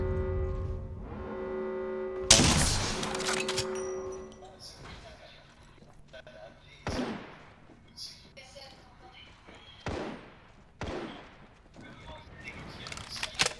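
Gunfire in Apex Legends: a loud burst of shots followed by scattered sharper cracks and impacts, with a player speaking French over the game action.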